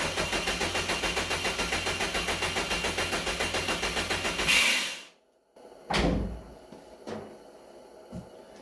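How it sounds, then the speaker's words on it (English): A widebody Subaru WRX wagon race car's engine cranks on the starter in a fast, steady rhythm for about four seconds, then surges briefly and cuts out, followed by a few scattered bangs and thumps. "Should get the engine to roll over."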